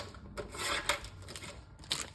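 Scissors cutting through laminated plastic storage pockets, a series of close crisp snips and slicing crunches in irregular rhythm, with some rustling of the stiff sheet between cuts.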